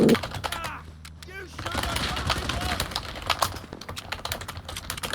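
Rapid, furious clattering on a computer keyboard, dense and continuous at close range, with some voice mixed in.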